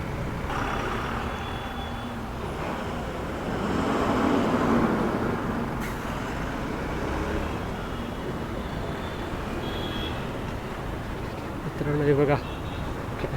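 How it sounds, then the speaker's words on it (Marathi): Busy road traffic rumbles continuously at night, engines droning nearby, with a short run of beeps toward the end. "ट्रॅफिक भरपूर आहे"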